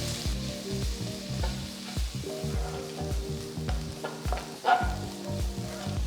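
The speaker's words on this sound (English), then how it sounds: "First let's saute these ingredients." Finely chopped garlic, ginger and onions sizzle and fry in a pan for dal khichdi, with steady crackling broken by regular rhythmic scrapes and knocks of a stirring spoon.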